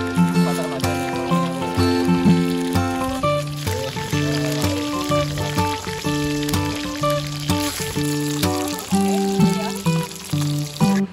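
Fish and eel frying in a pan at a seaside campsite give a steady sizzle, heard softly beneath prominent background music with a repeating beat.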